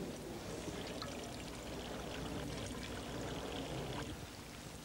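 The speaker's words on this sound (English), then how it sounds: "What we do now is pour the water through this and collect at the other end." Water poured through an improvised sock filter, a steady continuous splashing and trickling stream heard up close for the full stretch with no talking.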